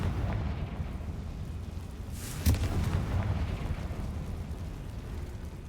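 A single fire-spell explosion, Confringo, cast in Hogwarts Legacy, bursting sharply mid-clip over a steady low rumble of background game ambience.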